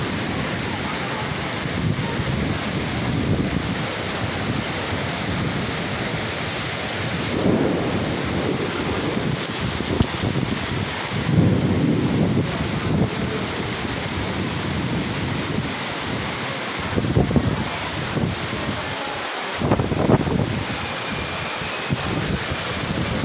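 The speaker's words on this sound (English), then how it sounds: "today for the afternoon, rain very heavy" Heavy afternoon rain with thunder in Yala, South Thailand, a steady dense roar of downpour with several low rumbling swells rising and fading, broadband and continuous throughout.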